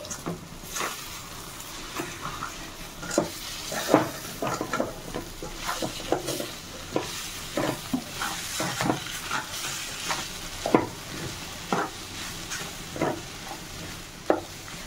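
Egg bhurji being stirred in a frying pan, a soft continuous sizzle broken by a steady run of spatula scrapes and taps against the pan, close and moderately loud.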